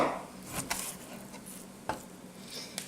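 A knife cuts meat into chunks, giving a few faint, sparse taps against a cutting board in a quiet kitchen.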